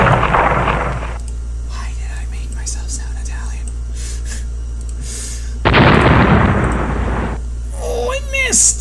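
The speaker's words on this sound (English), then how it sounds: "Perry's letting a torpedo go." A torpedo launch and explosion in the naval strategy game Rule The Waves: a broad, loud burst at the start, a second heavy blast in the middle, and a thin whistling sweep near the end, over a steady low rumble with faint speech-like sounds.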